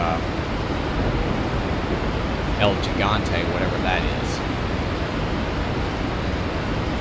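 Waterfall in a video game: a steady, dense rushing roar of falling water that runs throughout, with someone talking briefly over it.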